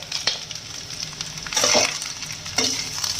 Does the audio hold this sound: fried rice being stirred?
yes